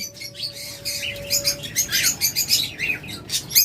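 A pair of lovebirds in a breeding cage chirping and tweeting in quick, bright bursts close by, growing busier toward the end over a low background hum.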